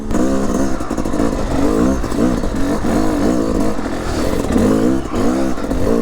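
A hard enduro two-stroke motorcycle with a power valve conversion is ridden slowly in low gear through woods, its engine close and loud, rising and falling in short repeated revs with some clattering.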